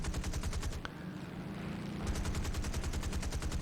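Rapid cannon fire from the nose of an enemy aircraft in the War Thunder air-combat game, a loud continuous burst that breaks off briefly and then resumes, with engine drone behind it.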